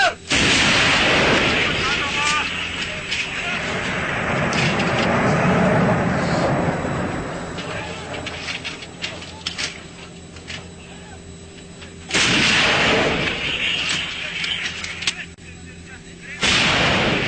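Heavy artillery guns fire three loud, booming rounds at the start, the middle and near the end. Each blast rolls into a long fading rumble, and faint voices can be heard between the shots.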